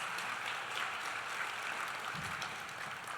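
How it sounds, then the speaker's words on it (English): Steady applause from an audience at a teacher awards ceremony, a dense even patter of clapping sustained throughout at moderate distance. "Big round of applause to your spouses. Please, big round of applause."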